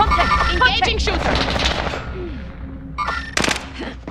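Bursts of video game gunfire in a military shooter, with rapid automatic fire and single shots rattling amid a busy battle mix, loud and close with scattered effects and distant voices.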